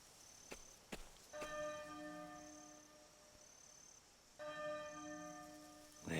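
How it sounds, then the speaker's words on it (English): Two resonant church bell strikes toll slowly in the video game Octopath Traveler 2, each ringing out and lingering, separated by a few seconds of quiet with faint knocks before them. "There's the bell again."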